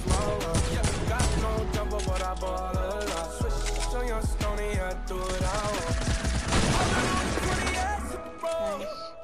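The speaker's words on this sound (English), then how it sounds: "I'm gonna kill with my infantry rifle." Rapid rifle gunfire from a video game shooter, dense overlapping bursts and loud game audio filling the whole stretch with little pause.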